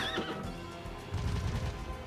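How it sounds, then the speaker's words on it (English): A horse whinnies in the video game Bloodstained, a rising high neigh at the start followed by a rumble of hoof-like thuds, moderately quiet with no talk. "It's a very bored horse if you think about it."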